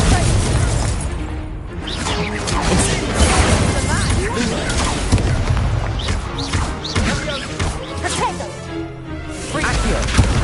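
Confringo blast spells exploding in Hogwarts Legacy combat: loud crashing bursts and whooshes layered over dense, continuous fight noise, with no pause in the clamour.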